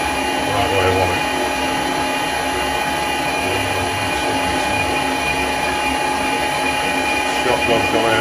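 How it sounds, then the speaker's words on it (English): Metal lathe taking a light skim cut on a collet holder, a loud, steady whirring hum with a high tonal whine running continuously through the workshop. "So this is just a little skim cut, so I'm hoping this is going to pull it in right where I want it."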